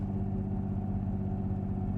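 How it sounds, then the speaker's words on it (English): A boat V12 engine fitted in a rare SUV runs steadily at idle, a low rumbling drone with a rough, puffing edge from exhaust leaks, continuous and close. "This thing's pretty noisy. Hear a lot of exhaust leaks."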